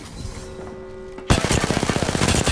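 Rapid automatic gunfire in Apex Legends erupts abruptly after a calm stretch with a steady tone, a close, loud burst of evenly spaced shots continuing to the end.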